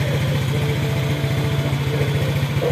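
A carbureted motorcycle engine idles close by with a steady, fast low thumping pulse and an even, unchanging drone throughout.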